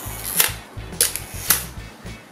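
A Zeiss Ikon Icarex 35 shutter fires at half a second, producing three sharp, close clacks in quick succession with low mechanical whirring between them, heard alone and fairly loud.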